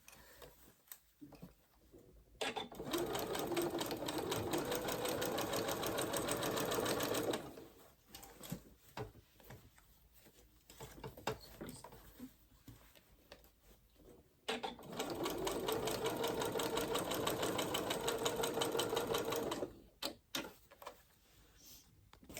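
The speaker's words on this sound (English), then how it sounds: "just sew up" A sewing machine stitches a ruffle seam on a Butterick 5792 top in two steady bursts of a few seconds each, with quiet pauses between them and near the start and end.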